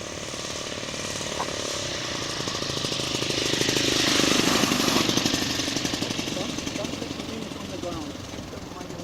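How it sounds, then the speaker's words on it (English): The small, high-revving engine of a 40% scale Jungmeister aerobatic model biplane buzzes steadily, swelling louder near the middle as it passes closer, then easing off, with people talking over it. "Sounds like a vintage motor."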